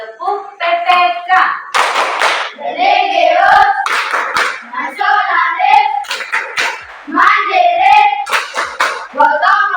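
A group in an elementary school classroom at SDI Lamabayung performs the Tepuk PPK chant, sung voices interleaved with sharp bursts of rhythmic hand clapping at a steady, close, fairly loud pace.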